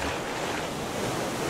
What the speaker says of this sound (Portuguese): Olha a onda